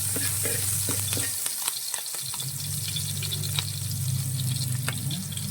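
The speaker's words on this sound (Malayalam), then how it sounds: "ഈ അരച്ച അരപ്പ് നമ്മൾ നന്നായിട്ടൊന്ന് വഴക്കണം" Ground masala paste with green chili and tamarind sautéing in a pan for a chicken stew, a close, steady sizzle with stirring scrapes, briefly dropping out mid-way before resuming.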